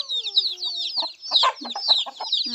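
Chickens cluck busily and close by in the evening, a dense run of short clucks and squawks with no talking.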